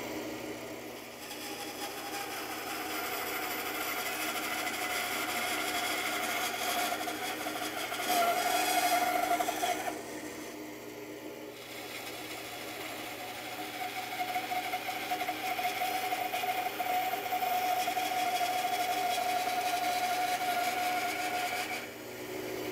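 A bandsaw cutting a curve in wood hums and whirs steadily at moderate level, the blade note shifting as the cut progresses with a brief dip midway, no talk.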